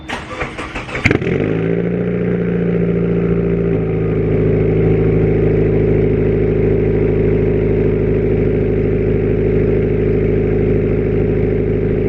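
A 2017 Subaru Forester XT with a Tomei titanium exhaust cranks for about a second, catches and settles into a loud, steady idle that steps up slightly in pitch a few seconds later.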